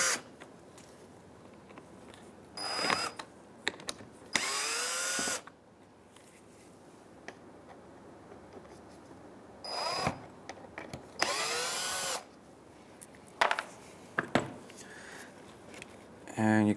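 Several short whirring bursts from a power screwdriver backing out Phillips screws from the fog light trim of a 2015–2019 Hyundai Sonata bumper, spaced irregularly over low background noise, with a voice speaking quietly between them.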